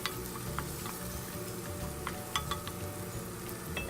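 Tomatoes sautéing in a pan for a Saravana Bhavan–style bisibelebath sambar rice, giving a steady close sizzle with occasional stirring scrapes and light clicks of a utensil against the pan, no voices.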